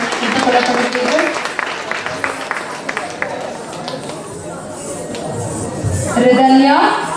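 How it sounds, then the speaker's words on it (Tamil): An audience claps at a newspaper anniversary award ceremony, a dense patter of applause under a loud voice and crowd murmur, swelling again toward the end. "பார்வையாளர்கள் கரகோஷங்களை எழுப்புமாறு கேட்டுக்கொள்ளப்படுகிறீர்கள்."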